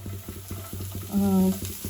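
Sliced spring onion, white parts and greens together, tossed into a hot frying pan with already-fried vegetables and stirred; a steady sizzle runs under rhythmic scraping, with a brief tonal swell in the middle.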